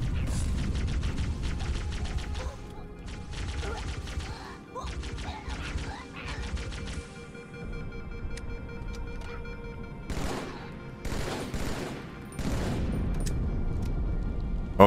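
Gunfire from a weapon in the Halo 2 video game, rapid bursts of shots and impacts over busy game sound, with a lull midway before sharp loud bursts return near the end.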